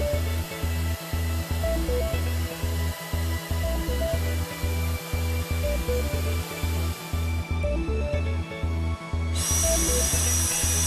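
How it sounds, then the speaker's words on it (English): An EXAIR Reversible Drum Vac runs in reverse with a steady loud hiss and hum while air fills the drum top and pushes liquid back out, the tone shifting sharply near the end, with no talk. "A popping sound of the drum top can be heard as the air fills the top of the drum and pushes the liquid back through the standpipe and hose."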